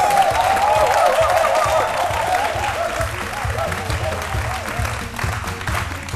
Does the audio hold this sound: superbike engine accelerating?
no